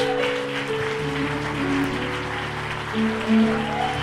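A church congregation applauds during an evening celebration service, with a sustained, even patter of clapping under held keyboard or organ tones.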